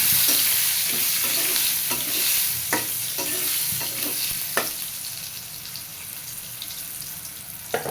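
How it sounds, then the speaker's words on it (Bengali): Eggplant pieces frying in oil with turmeric and salt, a loud, steady sizzle close by, broken by several sharp stirring scrapes and clacks from a utensil in the pan. "বেগুনগুলো ভাজা হয়ে গেছে লাল লাল করে"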